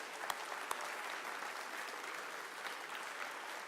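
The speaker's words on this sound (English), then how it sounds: "So actually give yourselves a round of applause, because you guys deserve it." Large audience applause at the Spaceport America Cup opening ceremony, a continuous even roar of clapping from a big crowd with a couple of sharper knocks early on.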